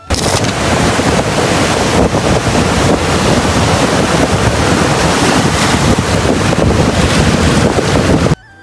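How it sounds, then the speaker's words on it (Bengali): Loud, steady roar of sea waves and strong wind at Kuakata beach on the Bay of Bengal, with heavy wind buffeting the microphone throughout and no voices, cutting off abruptly at the end. "এন্ড ঢেউ আর বাতাস বোঝার জন্য এই ক্লিপটা।"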